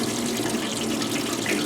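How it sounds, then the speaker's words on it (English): Engine coolant pours out of a car into a bucket beneath it, a steady, close splashing stream of liquid that runs on without a break and with no speech. "Well, I got a bucket under there, so we'll pour some of this out."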